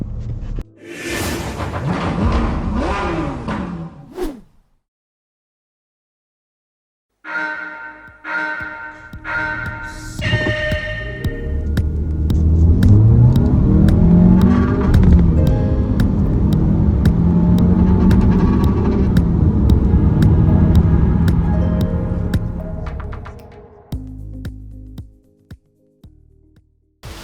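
Changan CS55 Plus crossover accelerating from 0 to 100 km/h, a short burst of engine then a pause, followed by a long sustained rising engine roar with gear shifts that fades out near the end.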